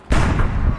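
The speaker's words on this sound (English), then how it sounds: "any second now, that soldier is going to fire the big cannon." A big cannon fires a single loud, close bang that booms and rumbles out without any pause.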